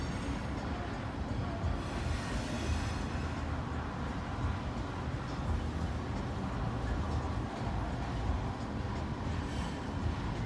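A CSX freight train rumbles steadily past at close range into a rail yard, a loud, continuous low roar of wheels and cars with no break.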